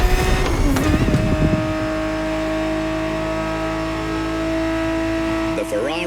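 A Ferrari 365 GTB4 from the 1970s in The Crew Motorfest gives a loud, sustained engine drone that holds a steady pitch. It opens with a brief rougher burst, and a voice talks over it near the start.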